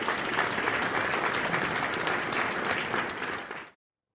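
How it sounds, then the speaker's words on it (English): An audience at a corporate awards ceremony applauds in a brief, dense burst of clapping that lasts under four seconds and then stops abruptly. "Ladies and gentlemen, let's give a big round of applause for Mr."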